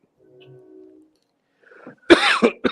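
A few harsh coughs burst out close to the mic after a quiet stretch of faint background hum.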